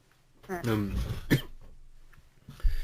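A few harsh, choking coughs close by after a drink goes down the wrong way, with a throat-clearing burst, followed by quieter breathing and another short cough at the end.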